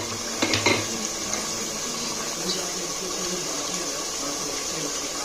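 Meat goes into a pan of browned onions for haleem, giving a faint, steady sizzle after a few brief clatters of stirring near the start.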